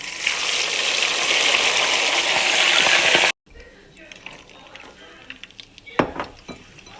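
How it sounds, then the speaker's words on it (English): Potatoes frying in a pan of oil give a loud steady sizzle for about three seconds, then it cuts off and quieter clinks of utensils and dishes follow, with one sharp knock. "Now I'm going to fry the rest and then put them in this plate."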